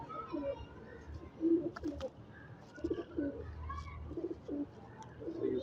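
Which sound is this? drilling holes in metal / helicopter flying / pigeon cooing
pigeon cooing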